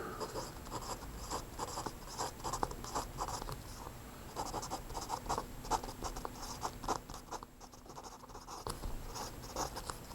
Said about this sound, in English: So I'll write that here.